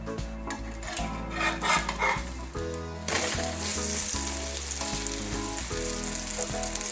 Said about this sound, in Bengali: এবার ডিমটা আমি উল্টে দেব।